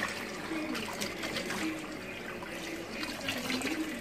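Purple organic sea moss being washed by hand in water, with a steady splashing and trickling of liquid that is close and fairly constant, and no talking.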